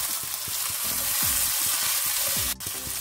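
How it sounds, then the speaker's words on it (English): Eggplant, ghiya and chopped okra frying with onions for sambhar, a loud dense sizzle with quick scraping stirs underneath and a short dip near the end. "I have some eggplant, some ghiya, and some chopped okra. So just dump it in just like that. Okay, there you go. Let's give this a quick mix."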